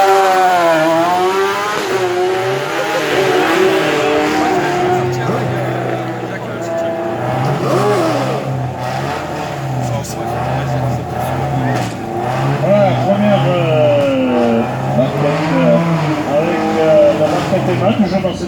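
A CM-category race car powered by a 1000 cc motorcycle engine runs at the 2018 Bettant hill climb. Its high-pitched engine howls loud and close, revving up and down through gear changes, while a commentator talks over it.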